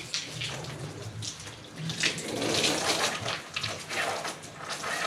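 Water from a hose spraying onto a dusty garage floor, a steady close hiss and splatter that swells and eases as the stream moves across the concrete.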